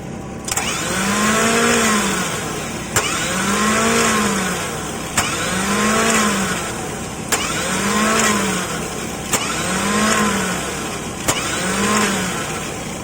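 A Komatsu FD50 forklift's starter motor is tested in repeated bursts, six cycles of a whirring, rising-and-falling cranking tone, each cut off by a sharp click, close and fairly loud.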